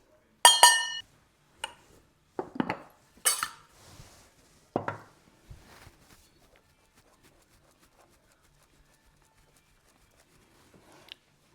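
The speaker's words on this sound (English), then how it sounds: "I'm just going to try to incorporate the flour, not over stir it" A utensil works flour into chocolate cake batter in a metal bread machine pan, making a few sharp clinks and scrapes against the pan early on, then trailing off into near silence with one faint knock at the end.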